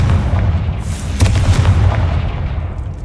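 A heavy blast from the Confringo explosive spell in Hogwarts Legacy booms loudly, its rumbling low-end explosion swelling and then fading over a few seconds.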